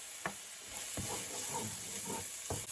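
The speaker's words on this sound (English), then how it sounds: "while my onions are sauteing away nicely, I'm going to add my garlic here" Onions and garlic sauteing in a pan, a steady soft sizzle and hiss running throughout with a few louder stirring scrapes and clatters standing out against it.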